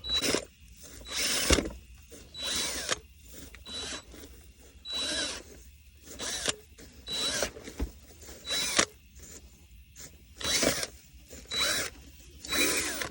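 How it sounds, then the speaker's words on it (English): A power drill with an auger bit whirs in repeated short bursts breaking up garden soil, with brief pauses between, grinding and rattling at close range. "it's just a matter of using the drill with the auger bit"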